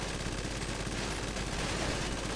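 A minigun fires continuously at a Kuruma car in GTA 5, a dense, unbroken roar of rapid gunfire that stays loud and steady throughout, with no pauses and no talk.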